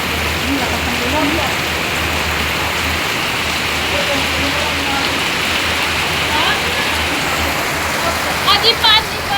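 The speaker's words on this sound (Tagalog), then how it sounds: "Ang lakas ng ulan." Heavy rain pours steadily with a dense, continuous hiss near a hanging bridge, and faint voices murmur beneath it.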